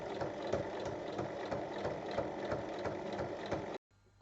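A sewing machine topstitches the full length of a zipper on a gusseted pouch, its needle running in a steady rapid mechanical chatter close by for nearly four seconds, then stopping abruptly.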